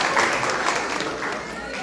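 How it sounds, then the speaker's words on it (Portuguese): Applause from a church congregation for birthday celebrants, a steady, dense patter of many hands clapping that holds evenly through the short stretch with no break. "Uma salva de palmas para os aniversariantes."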